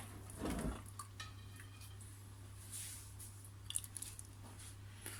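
Harira soup ladled into bowls, a soft close slosh and clink of the ladle at first, then faint intermittent taps of utensil on dishware over a steady low hum.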